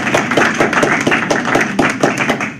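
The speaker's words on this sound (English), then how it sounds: "let's give a round of applause to our presenters." Audience clapping for presenters at a global health talk, fairly close and loud, with distinct individual hand claps in an uneven rhythm rather than a dense roar.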